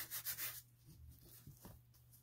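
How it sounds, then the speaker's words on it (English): Soft, close rubbing of a hand on the back of a blotter paper sheet laid over wet fountain pen ink, a few quick papery strokes followed by quieter brushing. "Rub the back of it."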